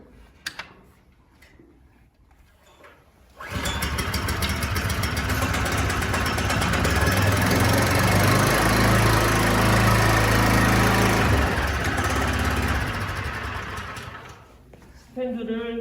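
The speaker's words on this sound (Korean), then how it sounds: "다시 한번 시동을 걸리고" Small engine of an onion transplanter starts after a quiet stretch with faint voices, then runs steadily and loudly with a dense mechanical clatter before cutting back near the end.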